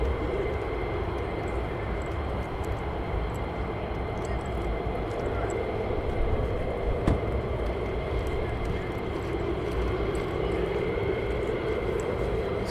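Steady broadband roar of fighter jets at RAF Lakenheath, a continuous distant engine rumble with a faint tonal whine, holding at even loudness throughout without noticeable rise or fall.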